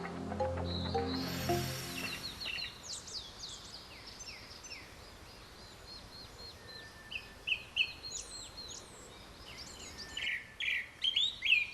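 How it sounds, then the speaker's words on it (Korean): Summer birds singing in the wild, with several bright chirps and whistled phrases scattered over the clip, some near and some farther off, above a faint quiet background; a brief low sound opens it. "여름 새들의 노랫소리와 함께 계절이 깊어갑니다."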